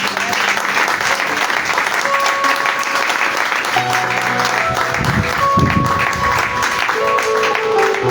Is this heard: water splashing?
no